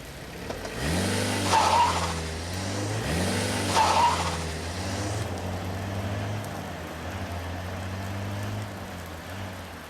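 A car accelerates away with its engine rising and revving in two surges, then settling into a steady drone that fades toward the end.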